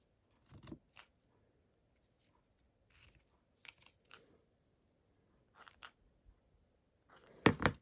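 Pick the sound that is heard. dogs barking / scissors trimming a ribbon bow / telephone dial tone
scissors trimming a ribbon bow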